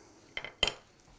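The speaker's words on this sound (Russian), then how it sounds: "Ступки на даче нет, поэтому будем подручными средствами пользоваться. Вот так, деревянной ложкой." A wooden spoon crushes cloves against a bowl in two short, sharp knocks and scrapes, close and fairly quiet, with no talk over them.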